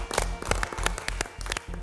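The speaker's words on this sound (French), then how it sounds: "vous pouvez vous applaudir" MasterChef contestants in a kitchen studio clap for themselves, a close, steady patter of hand claps from a small group with sharp individual slaps standing out, continuous through the moment.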